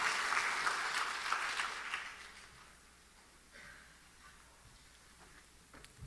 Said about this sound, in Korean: 우리 하나님 앞에 영광의 박수 올리시겠습니다.